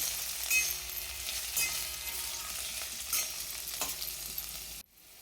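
Broad bean pods stir-fry in oil with a steady sizzle and periodic scraping stirs, the frying hiss close and constant before cutting off abruptly near the end.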